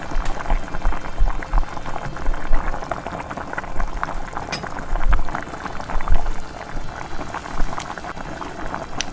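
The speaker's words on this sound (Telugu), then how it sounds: "జీలకర్ర ఆవాలు వేగిన తర్వాత ఒట్టి మిర్చీలు వేసుకోవాలి." Dried red chilies fry in hot oil with cumin and mustard seeds for an amla pickle tempering, giving a dense, steady bubbling crackle with small pops scattered throughout, close and continuous with no talking.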